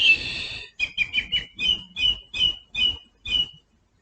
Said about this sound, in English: That's the birds joining in now.